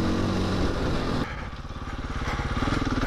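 A small trail motorcycle rides along dirt trails, its engine note loud and close, dropping in pitch midway and then pulsing with a steady throttle rhythm.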